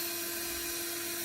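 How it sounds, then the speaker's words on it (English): A bandsaw cuts off excess wood with a loud, continuous, high-pitched whine and a steady hum underneath. It runs close by for about a second with no talk. "and the bandsaw"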